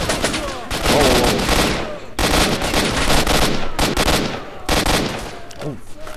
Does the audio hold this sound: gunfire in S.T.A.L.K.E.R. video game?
yes